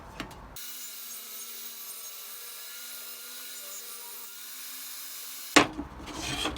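A power saw rips the width of a strop blank for a leather sharpening strop in a steady, even whir for about five seconds. A sharp clack and some shop noise come after the cut.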